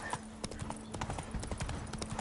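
Horse hooves clip-clop in quick, even rhythm on hard ground in the video game Witcher 3, close and clear over a low background hum.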